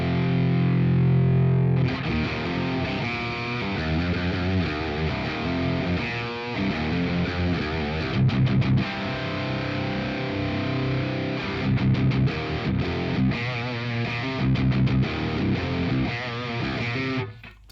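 Distorted electric guitar played through a Brainworx Friedman BE100 amp plugin, a loud, steady run of crunchy high-gain chords and riffs, starting after a brief sustained note and continuing close and dense with no talking.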